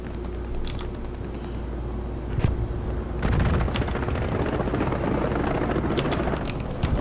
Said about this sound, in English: There's strafing's coming in.